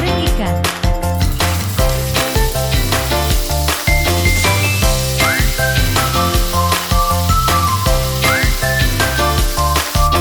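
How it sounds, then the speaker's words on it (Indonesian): Salted peda fish fries in hot oil with a continuous sizzle, partly masked by loud upbeat background music playing throughout. "Goreng ikan."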